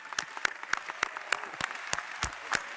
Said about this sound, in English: it's probably time for a round of applause, and let's make it loud